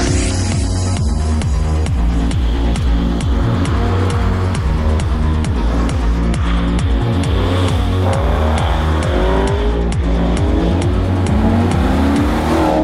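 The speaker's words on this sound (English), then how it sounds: "The sound is part of a dream car. A really good sound is like music." A Maserati GT1 race car engine revs hard and loud, with rapid repeated throttle blips and gear changes in a busy racing setting and no talk over it.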